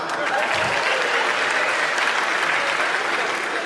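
A crowd applauds steadily and loudly throughout, a dense wash of hand claps with no break, under what sounds like a political or public gathering.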